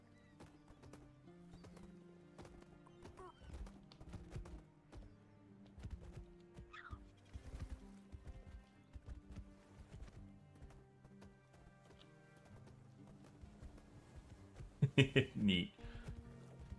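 Horse hooves clip-clop in a rhythmic, fairly quiet patter in the fantasy game Tainted Grail, ending with a loud, close neigh near the end, with a person speaking briefly over it.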